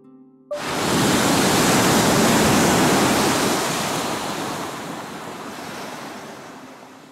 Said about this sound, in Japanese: 寄せては返す波